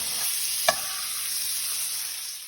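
Tomatoes and green chilies being stirred in a frying pan, a steady soft sizzle running throughout with a single sharp utensil clack near the start, quiet and close.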